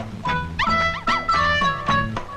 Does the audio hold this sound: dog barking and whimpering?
yes